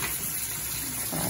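Yellowish water from boiled bamboo shoots drains in a steady, rushing pour, close and continuous, growing slightly louder toward the end.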